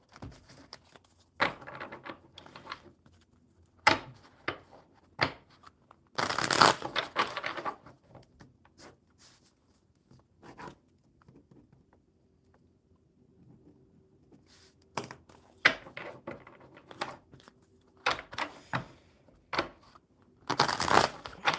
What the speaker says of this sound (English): One more shuffle for Duncan.